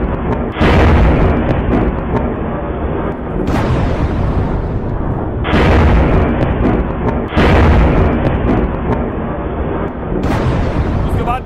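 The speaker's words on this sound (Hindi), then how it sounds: "कल रात जो धमाका हुआ है उसकी तस्वीर बताई जा रही है।" Explosion blasts in Karachi, Pakistan: a series of heavy, booming bursts that recur every couple of seconds, loud and rumbling, with a voice talking over them.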